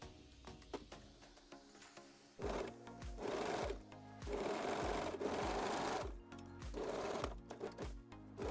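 A sewing machine stitches bikini fabric pieces pinned right sides together for a reversible tie bikini top, running in several steady bursts of a few seconds each, separated by short pauses, close and clear.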